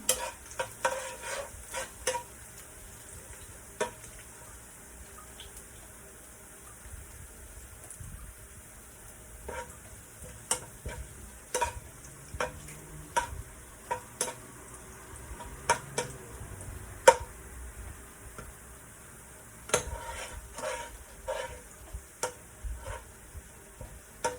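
Garlic frying until brown and toasted in a pan for seafood pancit canton with bihun, with a steady low sizzle broken by frequent clinking scrapes of a spatula stirring, close and moderately loud, with no talk.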